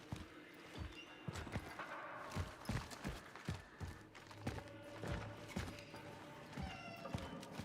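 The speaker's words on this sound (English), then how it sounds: "I hear the cat." A cat meows among clopping, scattered game sounds in the video game Cronos: The New Dawn, faint and intermittent over a busy background with no talk.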